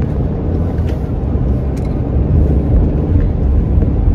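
Road traffic heard from inside a car, a steady low engine and tire rumble with passing vehicles swelling slightly toward the end, no talk.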